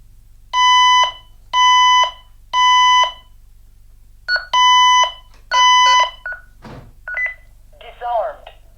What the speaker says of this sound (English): We get our fire alarm.